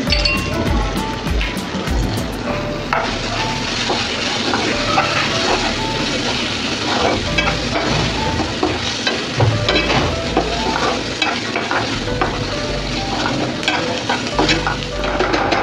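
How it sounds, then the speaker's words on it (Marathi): Turmeric, coriander powder, goda masala and chili powder are sautéed for a drumstick (shevga) curry gravy. A loud, dense sizzle runs throughout with frequent scraping and clanking stirs of a spoon against the pan. "सगळे मसाले आपले पूर्ण मिक्स होऊन छान परतले गेलेत"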